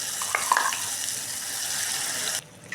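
Steady hiss of green chilli chutney frying in hot tempering in a pan with a few soft scrapes of stirring, close by, cutting off briefly near the end.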